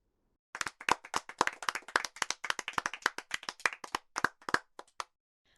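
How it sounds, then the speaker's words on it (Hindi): Children in a classroom clap together in a lively, slightly uneven burst of sharp claps that starts after a short silence, runs for about four seconds, then tapers off to a few final claps. "बहुत अच्छे, ताली बजाओ।"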